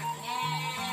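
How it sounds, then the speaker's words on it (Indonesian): A single sheep bleats from a pen in a quiet valley, one drawn-out, wavering call close by and alone. "Nah, ada kandang embek. Wah, domba."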